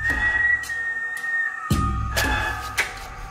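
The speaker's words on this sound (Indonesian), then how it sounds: "Kayak ada yang siul." Someone whistles a sustained tone that wavers and slides, with a few sharp clicks and a low thump partway through, fairly close.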